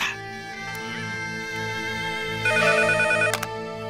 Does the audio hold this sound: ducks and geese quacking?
no